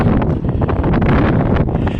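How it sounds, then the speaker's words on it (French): Cold wind buffets the microphone on a bridge over the Lachine Canal, a loud, continuous rumbling roar with gusty swells throughout and no voices. "The wind is blistering cold right now."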